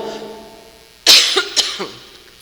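A sudden, loud cough close by, followed by a couple of smaller coughing bursts trailing off, with quiet room noise around it.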